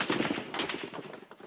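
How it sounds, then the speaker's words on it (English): Live-ammunition gunfire from army troops during a crackdown on a crowded square, a rapid burst of sharp, echoing shots with no voices over it. "And then the firing started."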